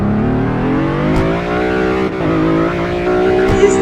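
Audi engine in the Car Driving Ultimate video game revving steadily through a drift, a loud sustained harmonic drone with slight pitch dips, close and continuous with no talk.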